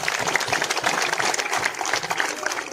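An audience bursts into loud, sustained applause for donors at a public gathering, dense overlapping claps close and continuous throughout.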